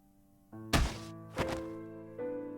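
A heavy thud sounds as someone is slammed into a wall in the visual novel Chaos;Child. A sharp impact lands over a sustained musical backdrop, followed by a second softer hit and a shift in the tones.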